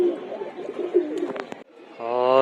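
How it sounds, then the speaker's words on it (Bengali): Pigeons on a rooftop coo softly and steadily up close, broken by a few sharp clicks or flutters near the middle, followed by a brief sustained tonal call at the end. "কবুতরও খাবারের জন্য ওয়েট করতেছে"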